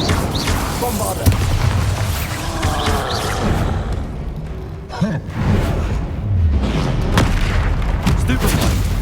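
Bombarda blasting spells in the Hogwarts Legacy video game, a dense run of booming explosions and impacts layered with battle effects and spoken voices, loud and continuous throughout.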